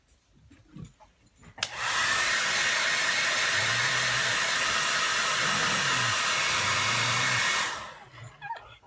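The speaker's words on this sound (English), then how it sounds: "She don't like the blow dryer." A blow dryer switches on with a click and roars with a loud steady whoosh for about six seconds, then winds down. A dog whines faintly around it.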